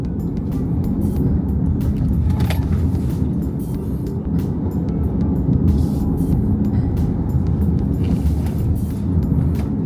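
A 2025 BYD Sealion 5 DM-i hybrid SUV pulls hard with the pedal floored, a steady loud roar with road noise and no one talking.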